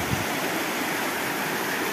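The Meléndez river in the rural outskirts of Cali rushes in a steady, dense broadband wash of flowing water, constant and close, with no voices over it.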